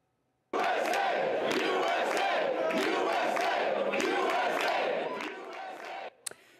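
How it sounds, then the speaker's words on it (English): Crowd at a San Diego County GOP election-night watch party chanting and cheering loudly in unison, a sustained roar starting abruptly and holding for several seconds before tapering, with a sharp clap near the end. "you could hear the chants and cheering that followed"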